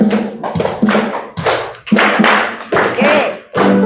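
Standing schoolchildren clap hands along in a steady beat at the start of a class song, loud, close-up claps in rhythmic bursts.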